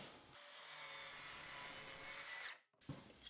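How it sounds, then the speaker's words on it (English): A table saw cuts a board at a 45-degree angle for a DIY bike stand: a loud, high, steady blade whine holds for about two seconds, then cuts off abruptly, followed by a brief clatter. "Now I'll flip the board around and make the next cut at that same 45-degree angle."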